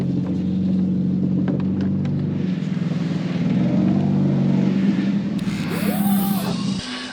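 Project car CornPop, its engine running on a test drive with a steady low rumble and mild revving from inside the car, and a brief higher whine near the end.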